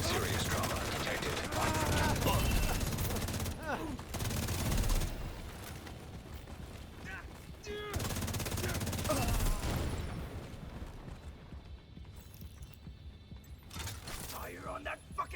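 Gunfire hammers an armored enemy's shield in a video game, dense bursts of loud shots in repeated volleys with mechanical clatter, while voices talk over the shooting.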